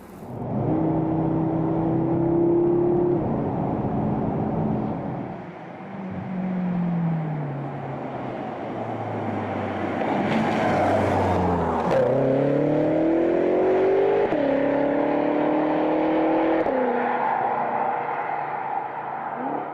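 A BMW M6 Gran Coupe with a V8 engine accelerates through several gear changes, its loud, rising engine note dropping and climbing again at each shift, heard close up without talk.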